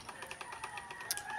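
Chickens cluck in short repeated bursts on a residential street lot in San Mateo, Rizal, moderately close amid light outdoor background noise.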